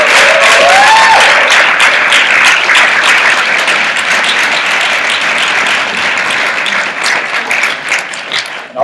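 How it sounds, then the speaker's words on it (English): An audience applauds performers at a community event night, with loud, dense, sustained clapping from a crowd that holds steady and then thins slightly toward the end. "everybody just give them a round of applause"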